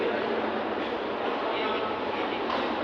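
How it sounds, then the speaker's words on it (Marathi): Local train standing at a suburban station platform, heard as a steady broad rumble and hum of the train and station, continuous and moderately loud, with a voice partly present. "तर मित्रांनो ट्रेन लागलेली आहे"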